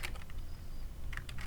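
Fast keystrokes on a computer keyboard while code is typed, clustered bursts of clicks with a short lull in the middle, close and distinct over a low steady hum.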